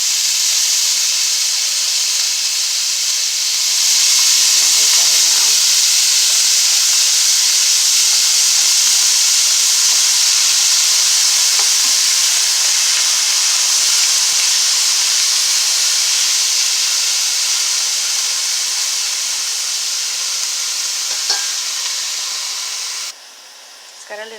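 Steady hiss of steam from mixed vegetables cooking in a hot pan while making pantry spaghetti, a constant broadband rush that runs unbroken for most of the clip before dropping away near the end.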